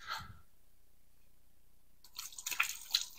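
Hands being washed under warm running water at a kitchen sink during sausage making, a faint splash at the start, a quiet pause, then close, uneven splashing and dripping.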